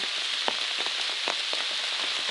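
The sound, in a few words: rain falling harder on a night hike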